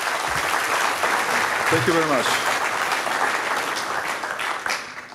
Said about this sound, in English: Could you applaud this?